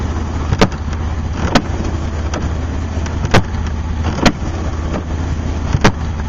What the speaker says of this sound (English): some clicking noise in that window there